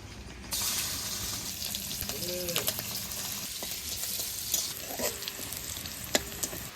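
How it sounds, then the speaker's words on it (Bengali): Garlic, cumin and green chillies sizzle in hot mustard oil on a stove, a steady loud frying hiss with occasional crackles and stirring scrapes, no voices. "গরম তেলে এবার রসুন আর জিরা কাঁচা লঙ্কা দিয়ে দেবো।"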